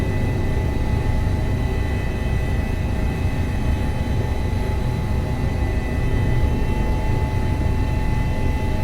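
Helicopter in a flight simulator hovering and flying over alpine terrain with collective raised: a steady, dense engine and rotor drone with a constant whining tone, loud and unbroken throughout, with no voices.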